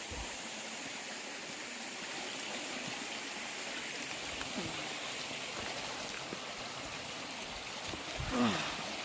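Creek water flows steadily along a wooded trail near a cemetery, a continuous broadband rush close to the hiker, with a brief louder splash or step near the end.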